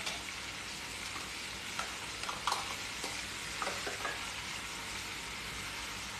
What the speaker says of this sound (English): On like a medium heat, you can start sauteing some garlic,